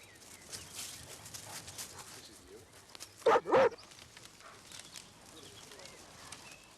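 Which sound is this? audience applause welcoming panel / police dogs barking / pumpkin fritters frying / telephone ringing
police dogs barking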